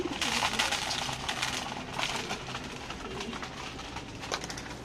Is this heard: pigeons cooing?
yes